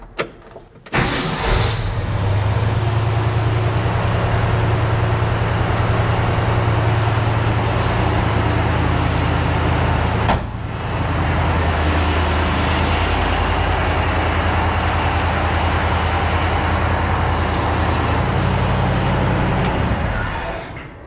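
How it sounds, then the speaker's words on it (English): A truck engine cranks and catches, then settles into a steady, loud idle that runs nearly continuously, with a brief dip partway through before the rumble resumes until the end. "let's fire up the truck."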